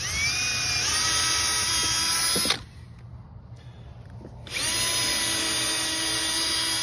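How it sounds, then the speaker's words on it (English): A high-pitched power drill whines steadily, stops for a couple of seconds, then starts up again, loud and close. "I'm just going to go ahead and drill some of this out."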